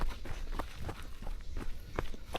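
Footsteps jogging downhill on a Mount Kelud hiking trail in East Java, a steady run of quick crunching strides on the dirt path, close and fairly loud over outdoor background noise.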